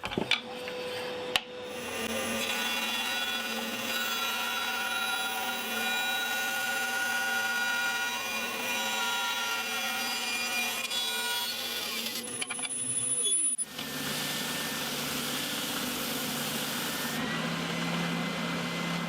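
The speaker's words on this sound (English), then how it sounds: "the bandsaw and the belt sander there, I believe, has done the job" A bandsaw and a belt sander work wood for a scratch-built bass guitar, giving a steady whining hum with a rasping cut that shifts to a harsher grinding tone near the end, close and without speech.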